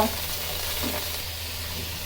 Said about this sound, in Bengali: ইলিশ মাছ আমরা পানি দিয়ে রান্না করব না, মশলার সাথে একটু ভাজা ভাজা করব।